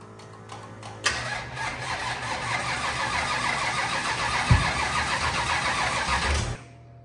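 A rebuilt 25-year-old race engine cranks and tries to catch, a loud broadband churning that starts abruptly, holds steady for about five seconds with a brief thump midway, then cuts off, with no talking.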